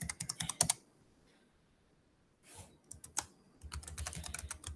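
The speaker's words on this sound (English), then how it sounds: "If it doesn't, you type their name and then click invite." Someone types a name on a computer keyboard in short quick bursts of close, crisp key clicks, separated by a quiet stretch with a faint rustle.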